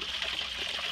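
Water from a solar-pumped rock waterfall trickles steadily down the stone, a soft, continuous splashing close by with no voices.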